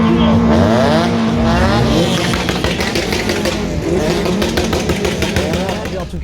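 Several Honda car engines rev loudly and continuously at close range at a Honda Euro Meet, their pitch rising and falling, with crowd noise and applause mixed in.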